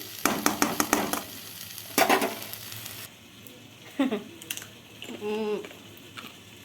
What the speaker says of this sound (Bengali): সেরকম আলু ভাজা করছি